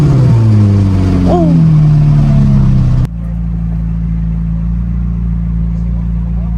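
A McLaren 570S Coupe engine roars up in a rising rev, then cuts abruptly to a lower, steady idle rumble, loud and close, with a voice briefly audible.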